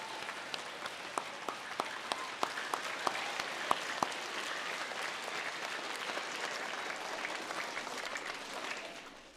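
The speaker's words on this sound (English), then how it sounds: "Let's give our Adams staff a round of applause." Applause for staff at an elementary school Blue Ribbon recognition ceremony, a sustained wash of many hands clapping with a few sharp nearby claps standing out early, fairly faint overall and fading at the end.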